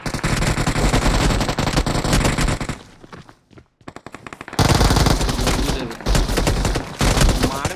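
Rapid automatic gunfire in a BGMI battle-royale game rattles loud and dense, breaks off into a short near-silent gap, then resumes in heavy bursts.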